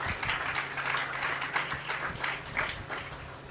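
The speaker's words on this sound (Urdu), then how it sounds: "زوردار تالیاں خدا کے لیے بجائیں" A congregation at a Sunday church gathering clapping for God, a steady, loud wash of many hands applauding together throughout, without a break.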